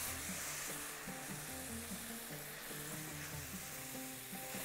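Vegetables stirred in a pot for a Bahraini dish, with a steady sizzle and soft scraping that runs the whole time under continuous background music.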